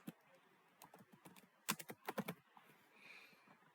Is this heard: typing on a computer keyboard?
yes